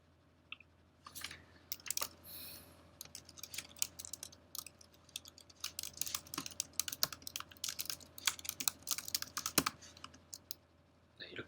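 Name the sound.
typing on a computer keyboard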